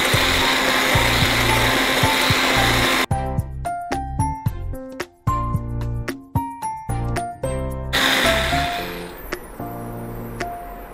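An electric whisk beats ghee with a loud, steady motor whir. It breaks into a run of short on-off pulses and clattering starts, then runs continuously again near the end.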